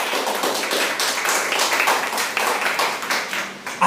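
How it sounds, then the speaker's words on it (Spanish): Church congregation clapping strongly in response to a call to applaud, a continuous dense wash of claps that holds steady for the whole stretch, fairly loud with little speech. "denle un fuerte aplauso al Señor, por favor"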